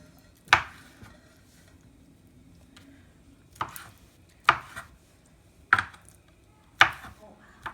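A knife chops about a pound of raw shrimp into bite-sized pieces on a cutting board, five crisp, close thuds spaced unevenly with quiet gaps between them.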